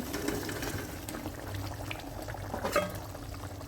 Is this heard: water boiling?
yes